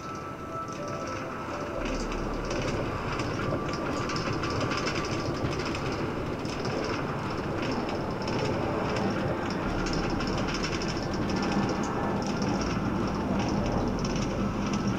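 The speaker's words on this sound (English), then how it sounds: "This is the Queensbound A Express train." Queens-bound A express on the New York subway in motion, a steady loud rumble and rattle of the car throughout with faint rhythmic wheel clatter and no talk.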